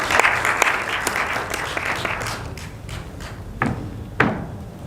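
An audience at a summit conference session claps to welcome a presenter to the stage. The applause is brief and moderate and fades out, with a few sharp knocks near the end.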